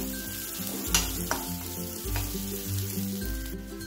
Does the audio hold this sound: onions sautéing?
yes